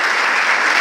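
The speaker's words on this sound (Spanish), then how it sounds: "Vamos a darle un aplauso al Señor" Congregation applause fills a church service, a dense, steady clatter of many hands clapping together, close and loud, running for under a second with no speech over it.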